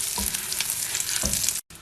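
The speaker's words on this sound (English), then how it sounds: "Start adding the butter." Butter sizzling hard in a hot pan with buns, a close, dense crackle and hiss, lightly scraped near the start and again near the end before cutting off abruptly.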